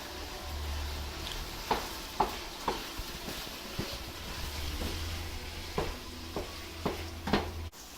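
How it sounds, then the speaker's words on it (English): A spoon stirs tomato puree into kheema frying in a pot, with soft scraping strokes and occasional clinks against the pan over a low steady sizzle. "Now we're going to add a teaspoon of the tomato puree. Let's give that a good stir."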